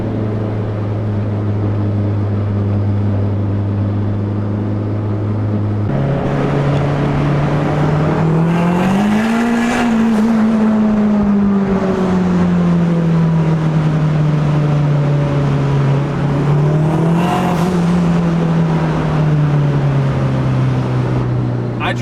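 A turbocharged K24-engined Honda accelerates hard with torque steer, its engine note dropping at a gear change then climbing again, loud and close with turbo whoosh inside the car.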